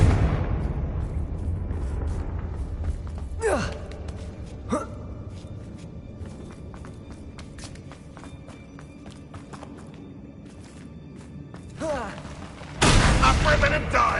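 Fire spell blasts from the Confringo charm in the Hogwarts Legacy video game, a few sharp whooshing impacts spread over the clip, ending in a loud burst, with a voice shouting the incantation and game sounds around.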